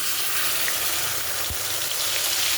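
Cumin, ginger, green chilli and coriander paste sizzles in hot oil with a dense, steady crackling hiss up close, broken once by a soft low knock.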